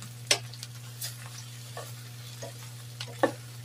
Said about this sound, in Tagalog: Maigisa muna dito sa ating onion at sa ating garlic.